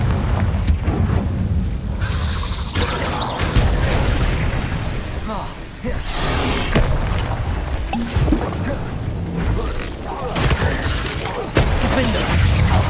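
Explosive Confringo spell blasts in the Hogwarts Legacy video game, with repeated loud booming bursts that come and go over a continuous roar of game sound, and a voice talking between them.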